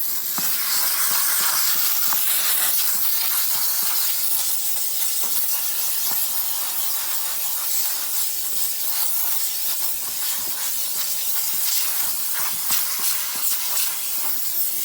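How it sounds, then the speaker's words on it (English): A steam cleaner works on a car's cloth carpet, giving a continuous close hiss of escaping steam with faint scrubbing and brushing pulses underneath and no talking. "use my steamer in combination with agitation like this"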